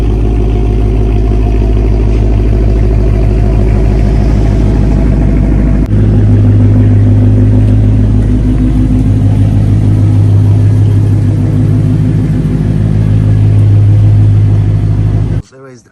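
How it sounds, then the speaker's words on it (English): A widebody Ford Mustang engine idles with a deep, loud, steady rumble as the car is backed out, its low drone shifting slightly in pitch partway through before cutting off abruptly at the end. "I'm gonna take this car outside, back it up"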